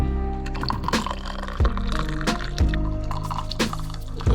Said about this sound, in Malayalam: ടീ ആയതിന് ഒരു സ്ട്രെയിനർ വെച്ചിട്ട് നമ്മളൊരു അരിപ്പ വെച്ചിട്ട് അരിച്ച് ഒഴിക്കുകയാണ്.